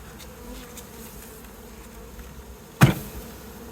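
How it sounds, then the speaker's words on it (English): A swarm of bees hums steadily inside a nuc box as they are tapped out, giving a close, continuous buzz broken by one sharp knock near the end. "there's a ton of bees down in there"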